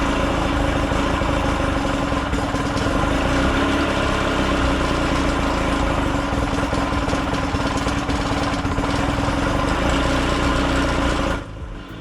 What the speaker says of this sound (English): I'll let the motor warm up for a bit and then continue tweaking the idle mixture as best I can